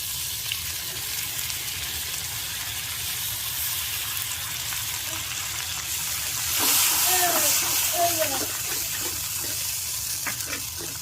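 Masala paste of tomato, poppy seed paste and coconut paste frying in a pan, a steady hiss and sizzle with occasional stirring scrapes and clinks, getting louder for a few seconds midway.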